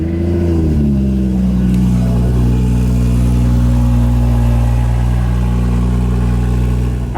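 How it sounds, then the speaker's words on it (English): Stage 3 BMW M140i engine cold-starting: a brief revving flare right at the start settles within a second into a loud, steady, rumbling high idle that holds to the end. "I'll give you guys a cold start now"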